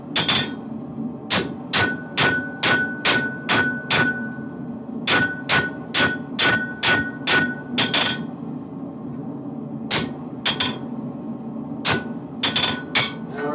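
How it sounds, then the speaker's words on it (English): Rapid ringing hammer blows on metal in bursts, each strike sharp and close, with short pauses between runs of hits. "So we're going to use the small hammer."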